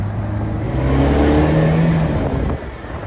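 A 1968 Alfa Romeo 1750 Spider Veloce engine pulls hard and steadily through the revs, heard from inside the car, with its steady tone rising before easing off near the end.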